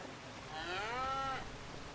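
A cow in Farming Simulator 25 lets out a single drawn-out moo, moderately loud over a quiet farmyard background, with no talking.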